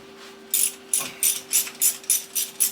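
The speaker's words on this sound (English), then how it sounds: "Pull the number one spark plug." A ratchet wrench loosens the number one spark plug on a newly installed engine in a project car. About eight crisp, evenly spaced ratcheting clicks play close and clear over a faint steady hum, with no talking.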